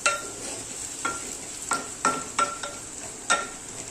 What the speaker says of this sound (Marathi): ऑलरेडी कांदा चांगला भाजलेला आहे